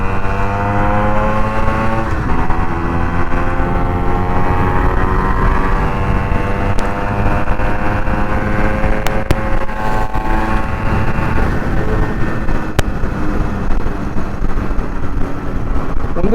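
A Yamaha RX 135 two-stroke motorcycle engine running loud and close, a steady buzzing drone whose pitch rises through acceleration and then holds high, continuous throughout.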